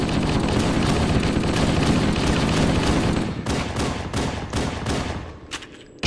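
Sustained, loud rapid gunfire in a Halo video game on Legendary difficulty, a dense fusillade of overlapping shots that thins into separate bursts before a sudden loud hit at the end.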